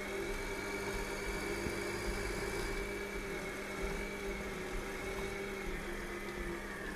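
A tractor engine in Farming Simulator 2013 drones at a steady idle, a constant low hum with a faint mechanical whine, even and unbroken.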